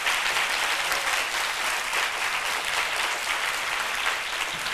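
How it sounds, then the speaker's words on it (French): Steady, bright applause from a seated crowd at a holiday-program launch event, a continuous rush of many hands clapping at an even level with no break. "Est-ce que vous pouvez vous applaudir encore très fort?"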